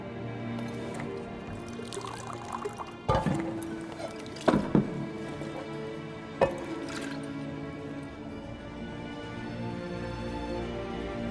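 A drink is poured and dribbles in a tavern scene in The Witcher 3, with soft trickling and dripping over low background music, punctuated by a few sharp clinks of a cup or bottle.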